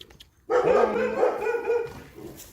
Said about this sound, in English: Notice the dogs went nuts when I said Black Moon Lilith, huh?